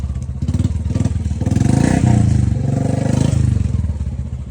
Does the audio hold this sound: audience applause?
no